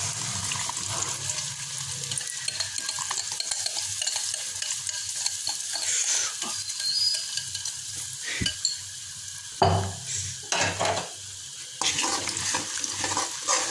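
Semolina halwa mixture stirred and sizzling in plenty of ghee, a steady broadband frying hiss with scraping spoon strokes and a few louder clattering pauses, close and continuous without talk.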